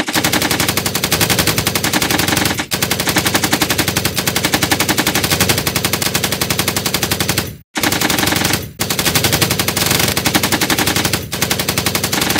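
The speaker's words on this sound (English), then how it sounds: "Those were gunshots." Sustained automatic gunfire in a Minecraft thriller movie rattles in long rapid bursts, loud and close, with a few brief pauses between volleys.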